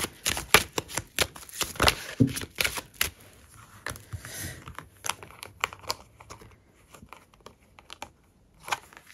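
A deck of oracle cards being shuffled by hand at a cluttered reading table, giving a run of crisp riffling and slapping bursts, loud and close, that thin out toward the end with a few scattered taps.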